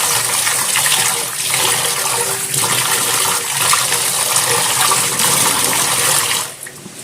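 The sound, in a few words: water draining from washed jute leaves (pat shak)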